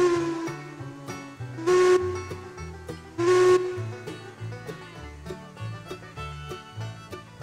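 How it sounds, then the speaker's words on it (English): Steam locomotive whistle in the Railroads Online video game, sounding in two short sliding blasts over a continuous chuffing and mechanical background with steady rhythmic train noise. "I don't like the slide of the whistle."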